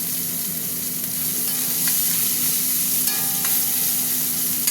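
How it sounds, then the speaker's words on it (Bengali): Onions frying in a kadai of oil with bay leaf and sugar for a spicy egg curry, a steady close hiss of sizzling with a low constant hum beneath and a few faint clinks, no talking. "পেঁয়াজটা ভাজা ভাজা হতে থাক।"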